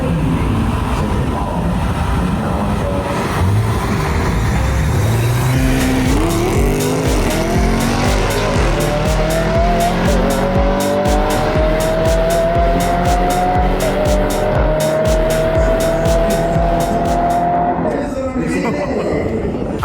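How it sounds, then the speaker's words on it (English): A Lamborghini SV and an Audi RS6 race hard, engines revving up through rising gears while tires squeal and skid, loud and continuous throughout with no talking. "When Matt decided to jump in the RS6 to race me himself."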